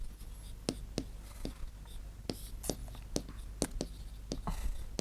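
Chalk or marker writing on a classroom board, a series of short, sharp scratchy strokes in irregular rhythm, fairly close, over a faint background hum with occasional soft voice.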